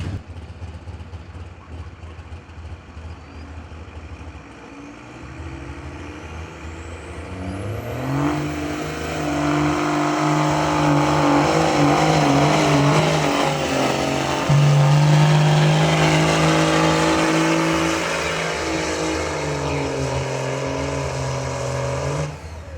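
A 2001 Dodge truck at a truck and tractor pull, engine idling, then revving hard and holding a loud, strained roar as it pulls down the track, pitch rising and wavering.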